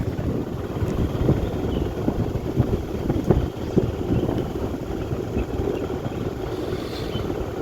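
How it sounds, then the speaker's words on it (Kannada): A scooter engine chugs oddly in cold, foggy weather, its low, uneven rumble continuing steadily under wind buffeting the microphone, with no voices. "ನಮ್ಮ ಸ್ಕೂಟಿ ಏನೋ ಬೇರೆ ಸೌಂಡ್ ಬರ್ತಿದೆ ಗೈಸ್ ನೋಡಿ"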